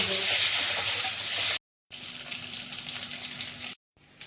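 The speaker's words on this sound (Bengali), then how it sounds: "এবারে গরম তেলে ডিমগুলো ভেজে নেব।" Eggs frying in hot oil give off a loud, dense hiss and crackle that stops abruptly twice, the sizzle returning slightly quieter each time, close and with no talking.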